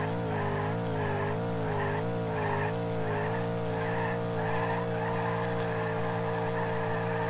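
In BeamNG.drive, a car does a burnout: the engine holds a loud, steady roar while the tires squeal continuously in a wavering, pulsing pattern, with no voices over it.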